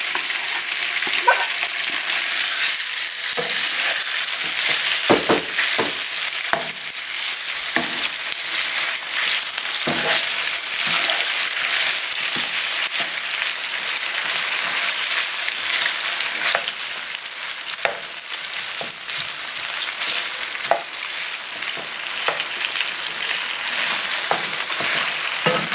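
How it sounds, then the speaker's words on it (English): Beef stir-fries in hot oil for a beef and broccoli dish, a steady, close sizzle lasting about half a minute, broken by frequent scraping and clattering stirs of the spatula. "After 2 minutes, start stir frying the beef."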